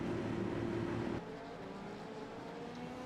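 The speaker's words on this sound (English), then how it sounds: "there is a GT3 on track" A GT3 race car on the circuit at Spa, its engine a steady, loud drone that drops in level after about a second and continues at a lower, even pitch.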